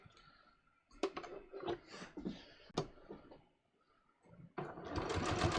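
A sewing machine stitches through two layers of fabric to hold the end of a long welt on a welt pocket, running in short bursts with clicks and pauses before a steady closing run, close and fairly quiet.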